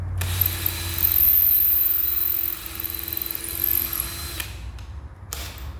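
A power drill drives a screw into a vintage camper door, running as one steady loud whine for about four seconds before it cuts off, then a brief final burst.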